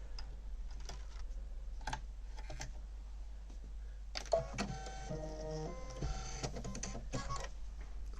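An embroidery machine stitches a Minnie Mouse mug rug with rapid mechanical ticking and clicking, busier in the middle, over a constant low hum.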